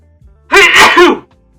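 A single loud, close human sneeze, a sharp intake followed by a forceful explosive burst lasting under a second, alone in near silence.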